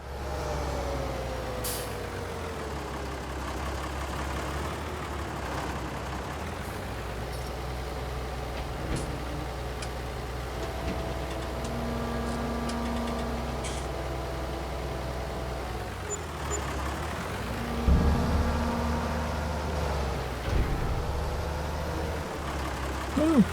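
A farm tractor engine running steadily nearby, a continuous low rumbling drone with a faint hiss that swells a little louder toward the end.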